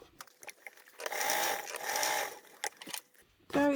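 A sewing machine top stitches a large foldable tote bag at a narrow 1/8-inch seam allowance in a steady run of about two seconds, with quieter handling sounds before and after.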